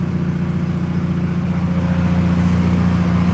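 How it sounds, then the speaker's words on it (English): A car engine idles while warming up on a cold start before a first drive, a steady low rumbling drone with a constant hum that holds evenly throughout, close and loud with no talk. "I'm just gonna sit here until this car warms up."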